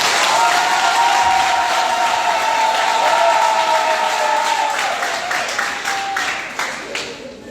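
An audience at a training event on personal development and entrepreneurship applauds and cheers in a dense, steady roar of clapping that stays loud, then thins and tapers toward the end, with a faint tonal voice-like line running underneath.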